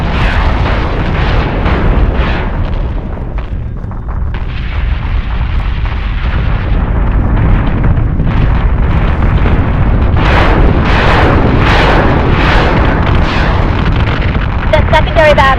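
Ship weapons fire and explosions in the Battlestar Galactica: Deadlock space combat game, a loud continuous roar of blasts and booms with sharper bursts toward the end, under a voice giving orders.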